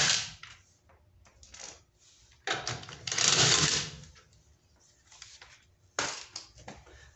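Bursts of ratcheting and mechanical clatter as lug nuts are loosened and removed from a vehicle's wheel during a front end inspection, intermittent and fairly quiet, with gaps between bursts and no talking.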